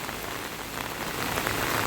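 Heavy monsoon rain pours steadily on a Konkan village, a dense, even hiss of drops hitting surfaces with no breaks and no voices.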